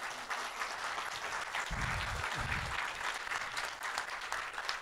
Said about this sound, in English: And so let's clap for Michaela.